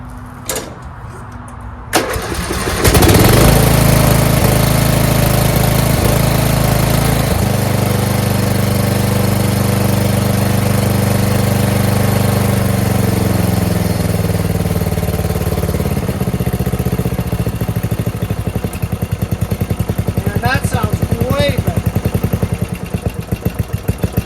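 A Murray riding lawn mower with a Briggs & Stratton 12.5 HP flathead engine, fitted with a freshly changed Nikki carburetor, cranks briefly, then starts and runs loud and steady close by. The engine idles down a little, and a couple of faint higher clanks come near the end.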